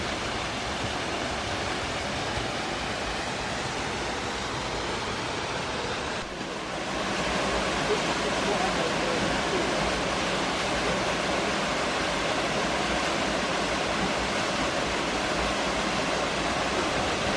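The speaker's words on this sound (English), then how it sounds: "the river flows down in front of you there to create this awesome little waterfall and like a plunge pool" A small river waterfall drops into a plunge pool, making a constant, dense rushing roar heard up close. The roar dips briefly partway through and then resumes, with no voices.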